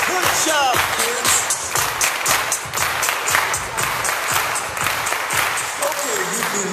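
Children's audience at a vacation Bible school clapping together in a dense, steady burst of applause that carries on for several seconds, with voices mixed into the noise.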